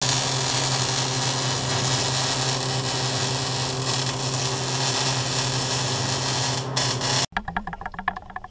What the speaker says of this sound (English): Got it marked to where I need to grind the paint off so I can weld it.